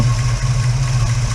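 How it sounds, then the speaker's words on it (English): A Holden HK car engine with a noisy valve lifter idles steadily and close by, a continuous low, even hum with no voices over it. "That lifter noise seems to come and go."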